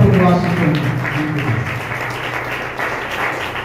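An audience at a monthly pastors' association meeting in Jalandhar claps steadily throughout, a dense, even wash of applause from a roomful of people with no clear voices above it.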